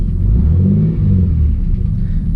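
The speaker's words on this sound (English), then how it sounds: "let's give it a little bit of rev just to make sure we're still good" A turbocharged 3800 engine in a Camaro, still at cold idle, gets a light rev: a loud, steady low rumble that swells slightly and holds for a couple of seconds, with no voices.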